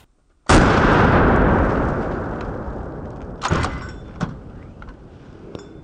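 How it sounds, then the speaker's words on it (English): A single deafening close-range blast from a .45-70 lever-action rifle, with an abrupt crack and a long rolling decay, followed by a couple of faint knocks. "I don't shoot 4570s at close range very often, and now I know why."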